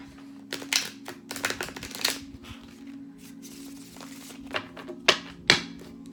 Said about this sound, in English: Just going to shuffle these a couple of times,